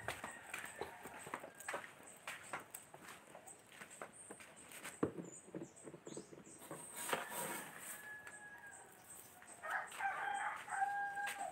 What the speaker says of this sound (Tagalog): Kain na tayo sa ating alagang manok.